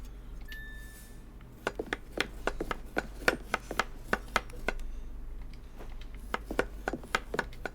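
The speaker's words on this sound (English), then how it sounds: "Okay, so chopping is his thing." Rapid knife chopping on a board in the cooking game Chef Life, a fast run of sharp, close taps in bursts with brief pauses, steady and clear over a low background hum.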